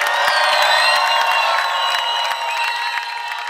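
A concert crowd in Niš screams and cheers in a dense, loud wash of shouting, whoops and scattered clapping that keeps up across the short stretch, thinning a little toward the end.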